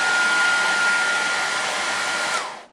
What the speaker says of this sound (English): you need to check the hairdryer to see how it works. Turn it on.